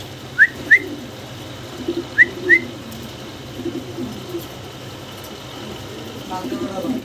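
Fancy pigeons, including a large red pair of Mundian, give two pairs of short, sharp chirp-like calls close by over a murmur of background talk and soft bird sounds.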